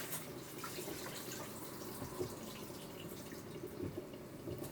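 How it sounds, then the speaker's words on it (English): Cold water runs from a kitchen tap over just-cooked food for lasagna, a steady, faint hissing stream with light splashing and dripping, heard alone without talking. "I pour cold water over them at this point because I have to handle them very shortly"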